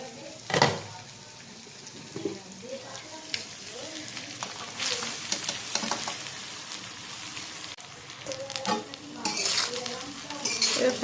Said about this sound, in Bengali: এবার ফ্রাইড রাইসটাকে মিক্স করে নেবো, ভালোভাবে মিক্স করে নেবো একসাথে এটাগুলোকে।